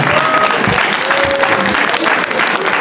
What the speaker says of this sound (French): Je vous demande également de l'applaudir